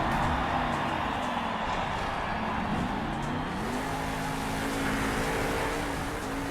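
Monster truck El Toro Loco roars around a Monster Jam freestyle arena, its engine droning loud and steady with pitch rising and dipping as it builds speed, a dense crowd-filled wash behind it.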